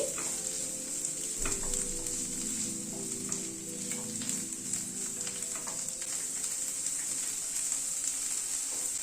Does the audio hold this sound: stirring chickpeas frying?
yes